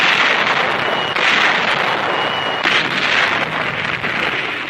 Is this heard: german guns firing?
yes